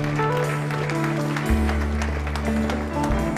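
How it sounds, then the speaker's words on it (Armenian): A church congregation claps together in a steady rhythm, the applause blending with sustained keyboard music that fills the hall. "եկեք ծափարենք մեր Աստծուն"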